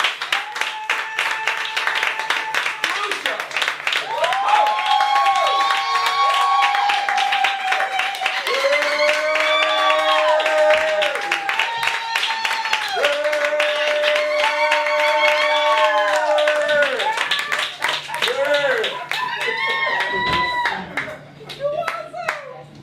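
An audience at a poetry jam claps continuously, a crowd of hands under a loud voice that talks and calls out over the applause throughout.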